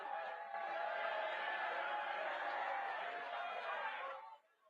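A large crowd at a Libertarian Party national convention roars in a sustained wash of booing and jeering that holds steady for about four seconds before cutting off abruptly.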